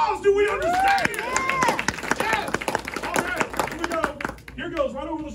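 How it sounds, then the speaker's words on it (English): A theater audience at a magic show claps in a short round of applause, the brief claps mixing with a performer talking over them. "A round of applause."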